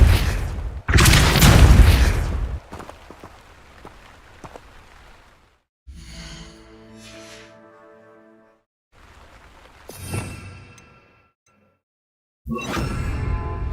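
A Depulso spell cast in Hogwarts Legacy gives a heavy booming burst, followed by ringing magical shimmer and tonal swells that fade in and out, with another loud burst at the end.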